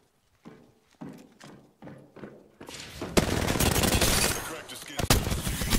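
Devotion energy machine gun firing in an Apex Legends-style shooter, a dense sustained burst of loud rapid shots following a few separate thumping footstep-like hits.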